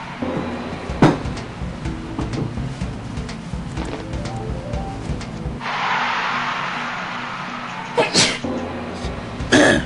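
A single sneeze bursting out near the end, sharp and fairly close, after stretches of mixed background noise, a low hum and scattered short sounds.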